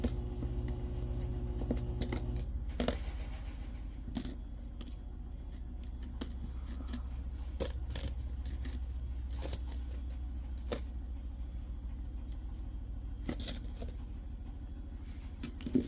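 Copper cents sorted and handled by hand, loose coins clinking and jingling in scattered bursts of sharp metallic clicks and rattles, close up, with no talk.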